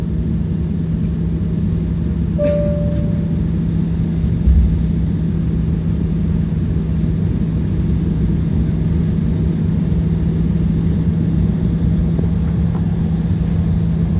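Airnorth aircraft taxiing toward the runway, a steady loud engine drone and hum heard from inside the cabin, continuous and unchanging with only faint brief clicks.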